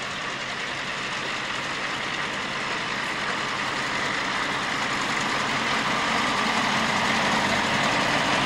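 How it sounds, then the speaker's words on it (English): A Gloster Gladiator biplane's piston engine turns over very slowly at an airshow, giving a steady, continuous rumbling drone that builds slightly in loudness toward the end with no speech. "See a very, very slow revving engine."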